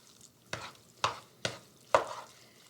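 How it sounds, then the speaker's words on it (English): Potato salad with mustard is mixed in a bowl: four spaced, soft stirring thuds and scrapes, close and faint, with quiet gaps between strokes. "So we're going to mix this around."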